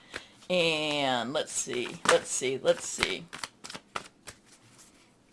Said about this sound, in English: We're going to pull one from the Angel, Redley Valentine Angel Tarot cards.